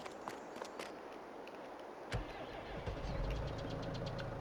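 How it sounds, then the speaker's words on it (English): A tractor engine in Farming Simulator 22 rumbles steadily at low pitch, growing louder and heavier after a sharp knock midway, with faint clicks earlier on. "We've got our tractor here ready."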